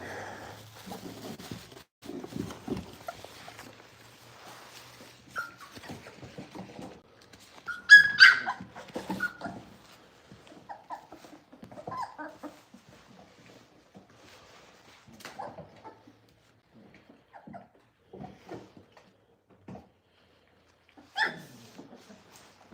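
Boerboel dogs and puppies yip, bark and whimper in scattered bursts, fairly close, with quiet pauses between the sounds.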